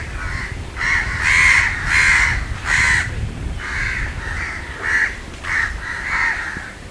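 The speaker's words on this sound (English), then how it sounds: "What the crows are shouting about." Crows in a wetland reserve in Singapore caw repeatedly in loud, harsh bursts, several overlapping calls coming in an uneven rhythm over a steady outdoor background, with no one talking.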